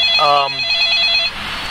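A telephone rings with a bright electronic trill, loud and close, fading after about a second while a voice is faintly present.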